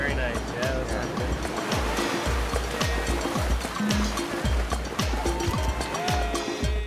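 Ocean waves rolling onto a shallow beach in Mexico, a steady broad wash of surf at ankle depth, mixed with close talk and footsteps or splashes throughout.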